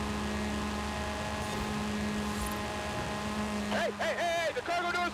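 Propeller airplane droning steadily in Forza Horizon 5 during a winter race, a constant low hum with voices talking over it near the end.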